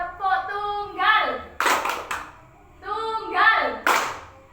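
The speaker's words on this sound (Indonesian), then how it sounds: "Tepuk tunggal." Children in a classroom clap together in a call-and-response clapping game, with broad bursts of hand claps between stretches of sung or chanted voices.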